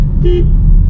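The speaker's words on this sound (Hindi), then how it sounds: "हॉर्न दबाइए" A single short car horn toot, loud and close, over a low engine rumble during a driving lesson.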